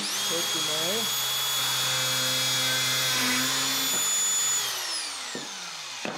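A Mafell Duodübler dowel drilling machine spins up with a high, steady motor whine that holds for several seconds, then winds down as the pitch drops. Someone speaks German over the start.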